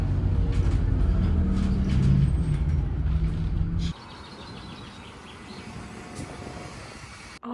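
Steady low rumble of a city bus interior in New Zealand, loud engine drone for the first few seconds, then a quieter rolling hum with faint rattles as the ride continues.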